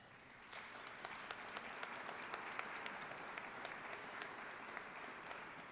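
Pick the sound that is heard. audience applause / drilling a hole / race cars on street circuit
audience applause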